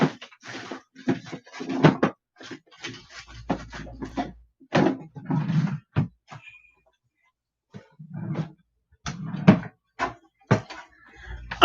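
A drawer is pulled open and searched through nearby, giving a long run of intermittent clunks, knocks and rustling bursts with short quiet gaps between them.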